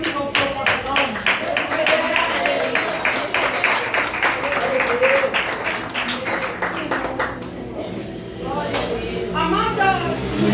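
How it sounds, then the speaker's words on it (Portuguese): Women at a church service clap together in praise, a brisk rhythmic patter of many hands, while a voice speaks over it through a hall sound system. "Pode glorificar o Senhor com as palmas."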